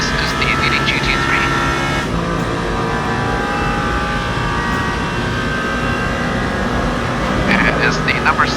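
The number 77 Mustang GT3 race car in Le Mans Ultimate, racing in the 24 Hours of Le Mans, gives a continuous, steady engine drone at close range, with a voice talking over it.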